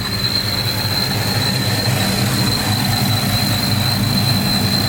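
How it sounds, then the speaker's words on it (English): A supercharged Saleen Mustang runs steadily, its blower whine holding a constant high note over a broad, continuous exhaust and engine roar, loud and unbroken throughout. "Just listen to that, man. The blower whine, the exhaust, the motor itself."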